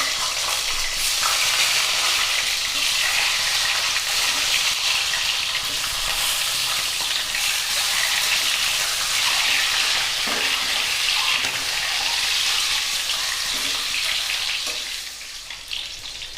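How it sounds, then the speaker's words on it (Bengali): Eggs fry in hot oil for an egg curry, giving a loud, steady, hissing sizzle that lasts throughout and eases slightly near the end, with no talking. "আমাদের তেলটা গরম হয়ে গেছে। এবার আমরা ডিমটা ভেজে নেব।"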